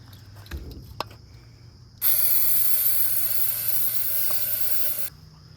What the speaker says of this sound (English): So spray that one more time, Caitlin.